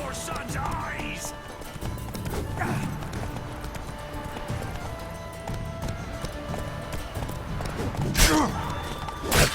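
Horse hooves clip-clop in a video game fight, a steady trotting patter running under scattered combat thumps and voices, with a brief whinny-like cry near the end.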